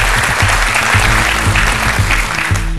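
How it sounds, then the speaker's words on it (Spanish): Studio audience applause on a television truth-telling show, loud continuous clapping with a low rhythmic thump running underneath, steady from start to end. "Un aplauso para ella."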